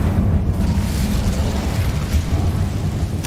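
A fire spell cast in the video game Hogwarts Legacy: a loud, sustained roaring burst with dense low rumble and broad crackling noise, running steadily for a few seconds with no talk.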